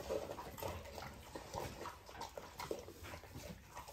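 Two Rottweiler mother dogs eating pig trotters and chicken near the microphone, with wet chewing, slurping and small whimpers in an irregular rhythm at moderate loudness, and no talking.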